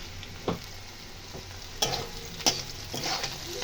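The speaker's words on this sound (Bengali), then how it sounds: "ঢ্যাঁড়সটা ভাজা হয়ে গেছে ভালো মতন" Okra frying in a pan while being stirred, a steady sizzle broken by several sharp scraping stirs, close and unaccompanied by talk.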